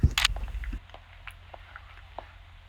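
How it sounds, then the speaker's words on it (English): Someone chews a bite of banana close to the microphone: a loud initial bite, then soft, squishy, irregular chewing sounds fading into a quiet background, with no talk. "let's listen to how I chew that banana"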